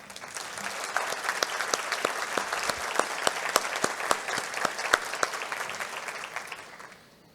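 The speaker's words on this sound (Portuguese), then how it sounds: "a quem peço aqui para ele uma salva de palmas." Audience applause at the opening ceremony of the 43rd ABPI Congress, a hall full of hands clapping in a dense, even patter that swells and then fades out near the end.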